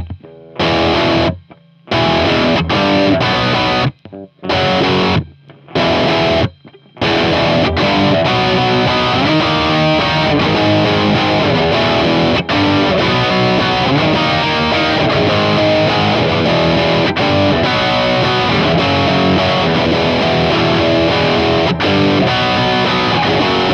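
Distorted electric guitar strums the final chorus of a song, loud and sustained, with chords stopping and restarting in short breaks at first, then ringing continuously to the end.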